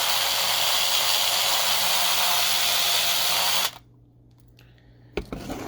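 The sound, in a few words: power drill enlarging a hole in a Matchbox toy car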